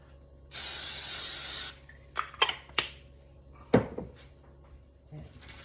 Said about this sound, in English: We are going to spray